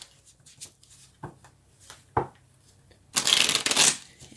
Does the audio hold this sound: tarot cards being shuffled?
yes